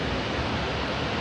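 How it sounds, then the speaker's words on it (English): Ouzoud waterfall in Morocco's Atlas mountains, a steady, full roar of falling water that fills the whole moment with broadband rushing noise and no voices. "waterfall."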